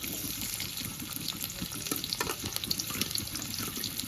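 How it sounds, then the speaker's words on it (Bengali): Chopped onion frying in hot oil in a wok gives a steady, close crackling sizzle with faint scraping, with no voices. "তেলটা গরম হয়ে গেছে, তেলের ভেতর পেঁয়াজ কুচি দিয়ে দেবো।"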